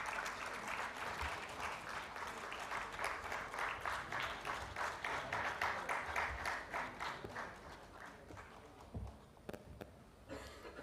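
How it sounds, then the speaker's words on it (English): An audience at an entrepreneurship and IP conclave gives sustained, rhythmic group applause, the claps falling into a loosely synchronized beat before thinning into scattered louder claps near the end. "please have a round of applause for these IPs"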